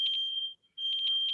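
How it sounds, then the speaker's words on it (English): A home smoke alarm shrills with a loud, steady high-pitched tone broken into rapid repeating beeps, cutting out briefly midway before resuming. "My fire alarm's going off."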